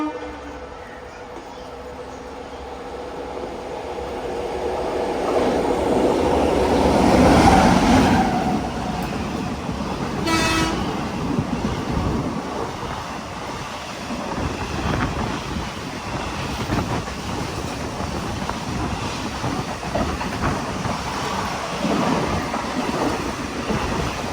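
The Sabari Express rolls past with a broad rushing rumble that swells and stays loud, with wind buffeting the microphone; a brief horn-like tone cuts in near the middle.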